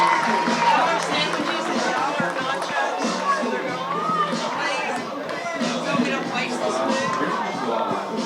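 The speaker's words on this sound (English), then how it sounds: "So that gets the crowd into it on the base hit by Colton Whitehouse." Crowd at a college baseball game, Tyler against Coastal Bend, cheers and chatters after a base hit, a steady loud wash of voices sustained throughout with no single voice standing out.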